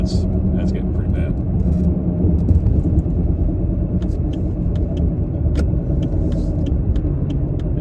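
A Chevrolet Alero with a failing wheel bearing drones and rumbles steadily while driving on a road, with a loud continuous low growl throughout and a voice talking over it.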